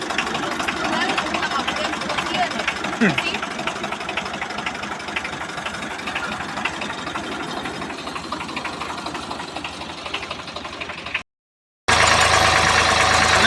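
A tractor engine chugs slowly and steadily at close range with a rhythmic knocking pulse, while a person talks over it; the sound drops out briefly near the end, then returns.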